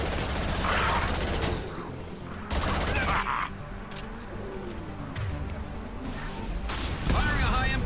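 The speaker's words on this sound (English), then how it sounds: "Firing a high-impact shot!" Heavy, high-impact rifle shots in the sci-fi shooter Mass Effect 2 ring out in loud bursts amid battle noise, with a few sharper cracks spaced across the stretch.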